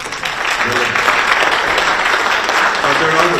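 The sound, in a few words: audience applause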